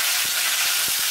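Curry leaves dropped into hot oil for tempering with fenugreek, mustard, cumin and asafoetida, a loud, close, steady hiss and crackle of sizzling with a few soft pops.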